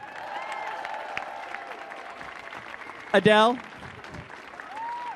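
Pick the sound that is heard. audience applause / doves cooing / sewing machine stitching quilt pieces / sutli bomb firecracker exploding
audience applause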